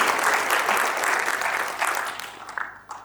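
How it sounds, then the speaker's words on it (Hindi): An audience at a vehicle registration session bursts into warm applause, a dense burst of clapping that tapers off over about three seconds. "एक बार जोरदार तालियों से स्वागत किया जाए"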